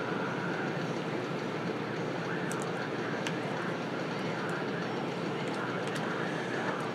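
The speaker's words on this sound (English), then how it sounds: "Air conditioner's a little hot today." An air conditioner runs in a room where an oscilloscope is being repaired, a steady broadband whooshing hum that stays constant and fairly loud throughout, with a few faint clicks over it.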